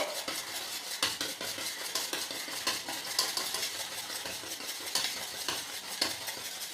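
Dhokla batter with baking powder being whisked in a bowl, rapid rhythmic clinks and scrapes of a utensil against the sides, close and continuous with no talking.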